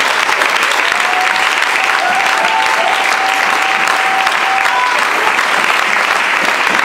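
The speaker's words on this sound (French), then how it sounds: "Acclame, je l'attends." A church congregation applauds loudly and steadily for several seconds, a dense continuous clapping that fills the room with no pause.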